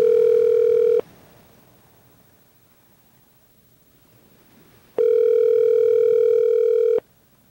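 A telephone line tone sounds loud and steady for about a second, falls silent for several seconds, then returns for a two-second burst, a clean electronic hum-like tone heard alone before a call to a grandmother.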